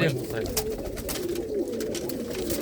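Pigeons in a loft coo with low, rolling calls that go on through the whole stretch. Someone talks over them, close to the listener.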